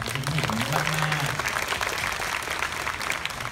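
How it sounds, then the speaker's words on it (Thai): An audience applauding teachers at a hosted event, a steady dense clatter of many clapping hands, with a brief voice near the start. "ปรบมือให้คุณครูทุกคนหน่อยค่ะ"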